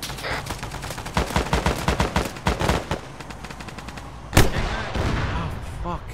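Gunfire erupts in an Arma 3 firefight: rapid bursts of automatic shots followed by a single loud blast of a fired rocket, then a trailing roar, all close and loud.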